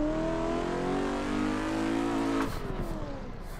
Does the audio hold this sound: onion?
no